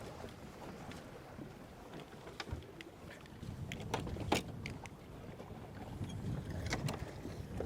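Gusty wind buffets the microphone outdoors on the Gulf Coast while inshore fishing, low rumbling rising and falling throughout, with occasional sharp knocks and splashes.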